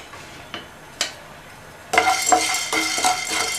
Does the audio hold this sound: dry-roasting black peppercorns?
yes